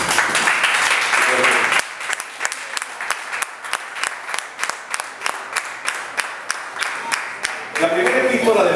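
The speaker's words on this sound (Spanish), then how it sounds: "puede darle un aplauso al Rey de Gloria" Applause from a church congregation honoring the King of Glory during a Spanish-language service, loud sustained clapping that thins into scattered individual claps and then swells again, with a voice speaking over part of it.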